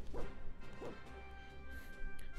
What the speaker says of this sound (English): Doggy.